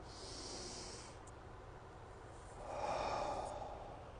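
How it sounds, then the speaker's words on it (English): Two slow, deep breaths, a long inhale followed by a fuller exhale, close and soft in a quiet room. "and we're going to breathe"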